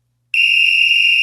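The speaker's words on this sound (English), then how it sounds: "That's the end of game whistle." A sharp, shrill whistle blast starts abruptly after a moment of silence and holds steady and loud as an end-of-game signal on a football podcast.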